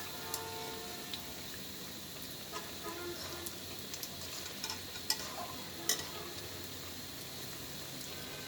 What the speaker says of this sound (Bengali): এখন উল্টিয়ে পাল্টিয়ে ভেজে নেব। যে বড়াগুলো হয়ে গেছে এগুলো আমি উল্টিয়ে দিচ্ছি।